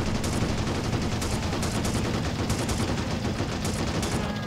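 A machine gun fires in the war video game V tylu vraga 2 (Behind Enemy Lines 2), a loud, dense, continuous rattle of rapid shots with no gaps, close and dominant throughout.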